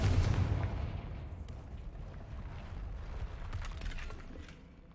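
A Confringo blasting spell explodes in the game Hogwarts Legacy with a heavy boom at the start that rolls into a rumbling, crackling decay and fades out.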